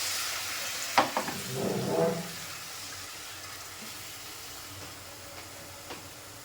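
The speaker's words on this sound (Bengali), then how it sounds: "পেঁয়াজ, রসুন, আদা ভাজা হয়ে গেছে। একটু জল দিলাম।" Fried onion, garlic and ginger hiss sharply when a splash of water hits the hot pan while a prawn malai curry is being cooked. A short loud burst of sizzling fades into a faint, lingering simmer.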